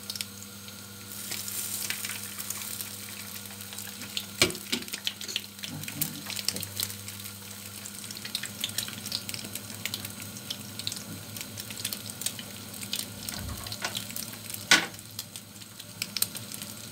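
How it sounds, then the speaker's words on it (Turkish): Potatoes frying in a pan during home meal preparation: a steady, quiet sizzle with scattered pops and crackles, mixed with brief water and clattering kitchen sounds nearby. "Patates kızartacaktım."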